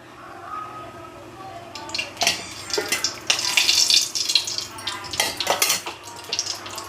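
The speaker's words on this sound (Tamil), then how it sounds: "தேவையான அளவு எண்ணெய் ஊற்றிப்போம்." Cooking oil, about three tablespoons for a meat curry, is poured into a pan already heated on a gas stove, setting off loud close sizzling and crackling in uneven bursts, with light metal clinks.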